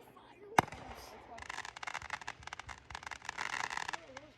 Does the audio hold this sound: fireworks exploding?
yes